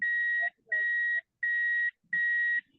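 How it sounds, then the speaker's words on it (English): A car's warning chime beeping while the driver is unbuckled, four evenly spaced, steady electronic tones of about half a second each, fairly clear with little else around them. "You have that beeping sound."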